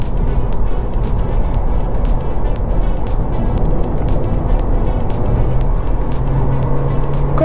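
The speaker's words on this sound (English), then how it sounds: "let's do uphill acceleration test" A Honda Civic Hybrid e:HEV accelerates uphill, heard from inside as a loud, steady engine and road drone with a faint rising tone near the end.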